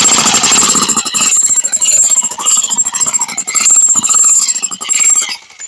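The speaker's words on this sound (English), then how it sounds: "So, I like to just feather the throttle a bit," An Einhell electric demolition breaker hammers with its trigger feathered, giving loud, close, rapid pulsing bursts that surge and ease in uneven waves with a high whine before it cuts off.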